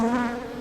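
Aggressive VSH honey bees buzz loudly at close range while a hive is being inspected, a sustained, tonal, wavering hum with no speech.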